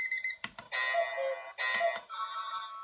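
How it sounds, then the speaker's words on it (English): A super-loud alarm clock for heavy sleepers cycles through its different alarm tones. Close, bright electronic beeping and ringing patterns play in short bursts, with button clicks between them. "So if I hit this, it will give me all the different sounds."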